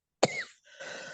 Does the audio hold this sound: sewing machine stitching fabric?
no